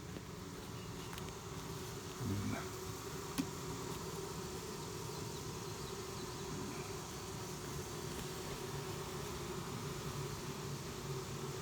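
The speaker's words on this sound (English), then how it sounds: "You hear him buzzing, fanning, and you see him, they are cooling, they're fanning." Honeybees buzz and fan their wings inside a hive, a dense, continuous drone that stays steady and close with no pauses.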